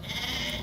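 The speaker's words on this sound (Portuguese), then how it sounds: "Aqui, ó, 20 ovelhas e o carneiro." Sheep bleating amid the steady crowd and animal noise of a Brazilian livestock fair in the northeast, where a lot of twenty ewes and a ram is on offer; a brief, close bleat over busy background din.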